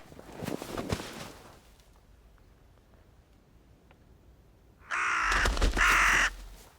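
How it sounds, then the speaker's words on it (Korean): Crows caw loudly in a short burst near the end, after a few fainter calls and a quiet stretch, suggesting hungry birds gathering in a cold dusk setting. "서서히 의식을 잃어가는 그녀 위로 굶주린 까마귀들이 죽음의 냄새를 맡고 떼지어 모여들기 시작하고"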